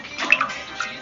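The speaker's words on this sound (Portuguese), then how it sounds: "É copo com água, certeza." Water sloshing in a drinking glass, a few soft splashy trickles and small clinks close by, faint and brief.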